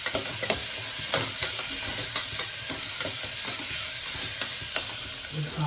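Ginger-garlic paste and green chillies sauté in a pan for paneer biryani, with a steady close sizzle broken by repeated rhythmic scrapes of a spoon stirring across the pan.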